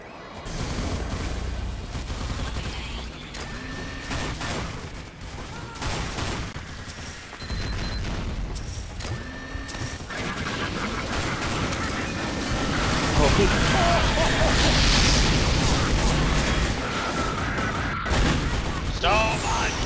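Continuous barrage of video game gunfire and explosions in a chaotic multiplayer battle, loud and dense throughout, swelling in intensity toward the middle, with someone talking over it.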